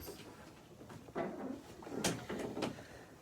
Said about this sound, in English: Let me push my door closed.